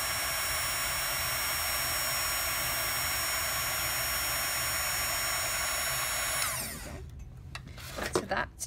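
A heat gun blows steadily and loudly at close range while setting white embossing powder, then cuts off near the end, leaving faint handling noises.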